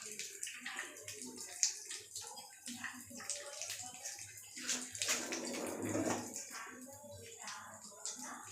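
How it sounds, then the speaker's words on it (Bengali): Cold water poured over boiled pasta, a splashing, gurgling stream that rises and falls in uneven surges, fairly close and moderately loud, with a voice partly audible beneath it. "সিদ্ধ করা পাস্তার উপরে একটু ঠান্ডা জল দিয়ে দেবো,"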